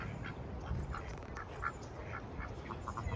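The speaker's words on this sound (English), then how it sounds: "A lot of the ducks and birds take off when they do this." Ducks quack repeatedly at a drained, closed-off waterside spot with little water flowing, the calls moderately distant over steady outdoor wash, with other birds around and no talk.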